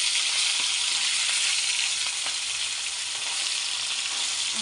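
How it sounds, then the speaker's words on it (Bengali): A hilsa fish tail frying in hot oil, giving a dense, continuous sizzle that stays loud and close from start to finish without any voices. "তাই লেজাটাকে আর একটু ভেজে নেব"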